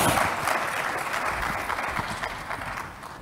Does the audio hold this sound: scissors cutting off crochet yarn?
no